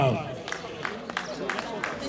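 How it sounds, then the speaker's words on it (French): An outdoor crowd applauds a young cyclist at a junior road race, scattered clapping heard under an announcer's voice and general crowd noise. "Vos applaudissements pour Raphaël Joffre"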